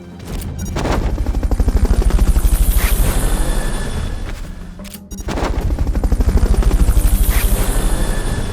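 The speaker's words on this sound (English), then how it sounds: "Fulton recovery helicopter is complete." A helicopter's rotor in the video game Metal Gear Solid Peace Walker thumps loudly and steadily, briefly dropping out around the middle before the heavy chopping resumes.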